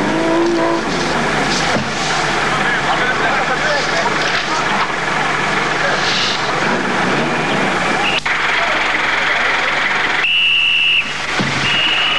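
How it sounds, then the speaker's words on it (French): Rally cars arrive at speed during the 1986 Transcongo rally, with engines roaring past amid a steady wash of noise and occasional squeals, while a narrator speaks throughout over the racing sounds. "Les voitures arrivent en trombe."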